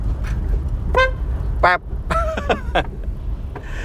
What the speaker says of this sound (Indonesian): Kalau misalnya mobil biasa itu kan klaksonnya tin. Kalau ini pep.